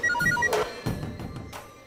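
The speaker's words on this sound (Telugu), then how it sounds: "వీళ్ళేంటి ఆపకుండా ఫోన్ చేస్తున్నారు" A phone ringtone plays a quick repeating electronic melody for about half a second, close and clear, followed by brief rustling and handling sounds.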